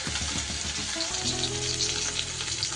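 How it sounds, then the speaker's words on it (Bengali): Fish frying in oil previously used for frying lentil dumplings, a loud close hiss and crackle that starts with scraping stirs and settles into a steady sizzle. "এইবার বড়ি ভাজার তেলেই আমি মাছগুলো ভেজে নেব"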